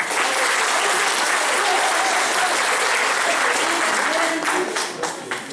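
A hall audience at a letter-writing award ceremony breaks into loud, continuous clapping that stays full for several seconds before tapering slightly at the end.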